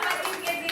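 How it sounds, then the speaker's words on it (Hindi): A brief burst of hand clapping, close and busy, lasting under a second, with a voice speaking over it. "अरे वाह तालियां।"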